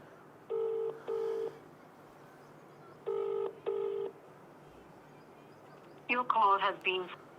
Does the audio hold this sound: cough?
no